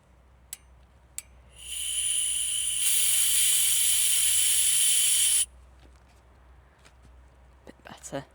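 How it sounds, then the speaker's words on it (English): Air hisses out of a Muc-Off Big Bore valve on a bicycle tyre in the woods, a single sustained hiss of about four seconds that starts softer and then grows louder before cutting off sharply, with faint rustling around it. "They're certainly easier to let the air out the valves, it's a lot quicker."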